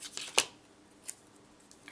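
Scissors snip through a small piece of hardware-store tape in one sharp, close cut, followed by a fainter second snip, in a quiet room with no talking.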